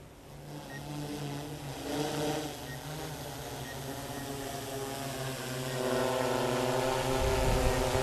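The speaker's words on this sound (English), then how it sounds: "Inspire 3 is a very powerful drone, so you've got to be careful." DJI Inspire 3 drone propellers hovering while landing, a steady, close buzzing whir that grows slightly louder and rougher toward the end as the drone comes down.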